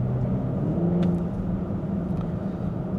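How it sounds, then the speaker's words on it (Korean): A BMW X5 50e M Sport Pro plug-in hybrid SUV cruising on a highway, its steady low road and engine rumble shifting in pitch as it downshifts, with continuous tyre and wind noise throughout. "다운시프트 치잖아요."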